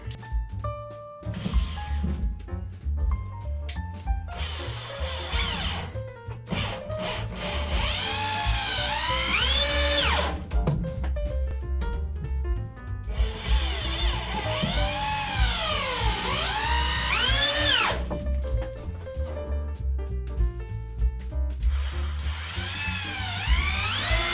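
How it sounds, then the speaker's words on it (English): A power drill drives screws with star bits through a 3/4 inch top into wall studs while building a simple workbench in a drum locker, giving loud, repeated whining bursts that rise and fall in pitch, with no talking. "we're gonna go ahead and we're gonna screw these into the studs."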